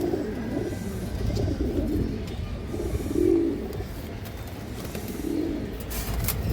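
A female Khorgola pigeon gives soft, low cooing phrases at close range, a few swelling coos over a steady murmur of other birds.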